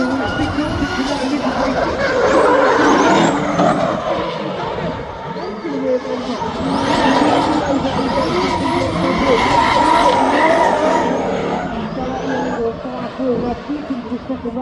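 Drift cars at a Goodwood drift competition, engines roaring and tyres skidding loudly and continuously, rising and falling under a commentator's voice.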